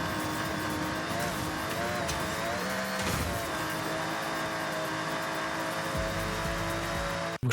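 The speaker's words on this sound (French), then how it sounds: "Ah, c'est une voiture de rallye, les potes." A rally car in the Forza Horizon racing game drives with a steady engine drone and long tire skids, loud and continuous for several seconds, then stops abruptly.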